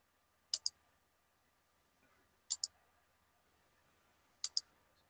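Computer mouse clicking at a desk: three pairs of sharp double clicks spaced about two seconds apart, close and crisp against a quiet background.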